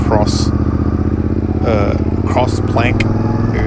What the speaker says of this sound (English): Fire up the Tenere, the CP2 engine, the awesome